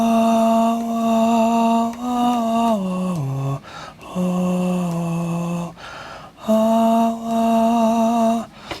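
A string-like melody written for a track plays as sustained, harmonically rich notes that glide downward in phrases, loud and close, with short breaks between phrases and no voices.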